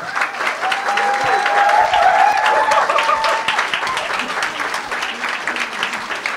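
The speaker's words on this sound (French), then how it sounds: "Merci de les applaudir." Sustained, full applause from an evening audience at a social sciences event welcoming a panel of authors, a dense continuous clatter of many hands held at an even level throughout.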